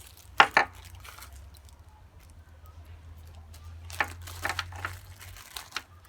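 Plastic bag crinkles in two short bursts, a brief pause, then several more rustles, close and fairly quiet with a low hum underneath.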